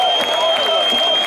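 Audience applause and crowd noise for a band guest at a concert: a short, steady wash of clapping and cheering with a sustained tone over it.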